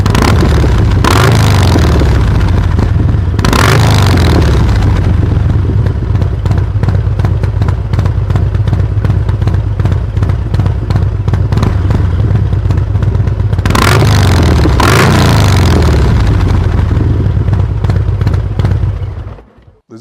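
Harley-Davidson M8 114 Street motorcycle engine revving loudly and close, deep throbbing idle broken by several sharp throttle blips that rise and fall, fading out at the end.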